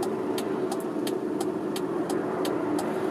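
A first-generation Toyota RAV4 engine drones steadily from inside the car during acceleration, its hum holding even while faint regular ticks repeat over the top.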